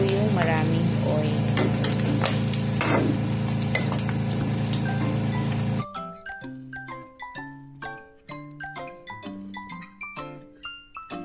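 Pork menudo stirred as it fries in plenty of hot oil, giving a loud steady sizzle with scraping for about six seconds, then a quieter stretch of ringing metallic clinks and taps.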